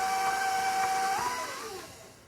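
An electric mixer beats butter, sugar, an egg and vanilla for whoopie pie batter with a steady whirring motor whine that shifts in pitch and then tapers off toward the end.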